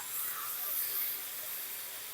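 A steady broad hiss of water sizzling in a hot pan with curry paste, constant and fairly close, with no talking.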